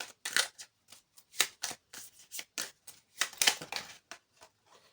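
Tarot cards are drawn one by one from a deck, a quiet run of close, crisp papery slides and flicks in an uneven rhythm with short pauses between them.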